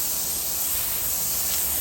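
Cleaner sprayed from a plastic spray bottle while testing a microfibre mop cloth: one continuous close hiss of mist lasting under two seconds, steady in loudness, with no talking.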